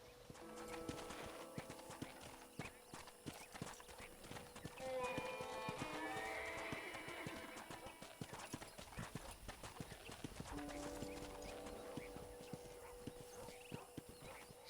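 Steady clip-clop of horse hooves at a walking pace in the video game Red Dead Redemption, close by, with a brief whinny and occasional voices talking over it.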